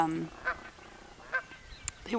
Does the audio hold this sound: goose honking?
yes